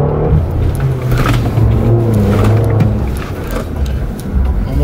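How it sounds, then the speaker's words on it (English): A car engine revs with a throaty, sports-car-like tone at the New York auto show, a loud continuous drone that rises and falls, with faint crowd noise underneath. "Sounds like a sports car."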